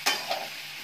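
Mixed vegetables with turmeric being stir-fried in a hot pan: a close scrape of the spatula, then a second softer stir over a steady sizzle, with no voices.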